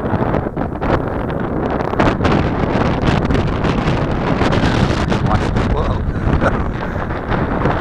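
Strong wind roars and buffets the microphone outdoors while a small Eachine CG022 quadcopter drone with prop guards flies upwind, a loud, steady rushing noise with gusty surges that masks any motor whine.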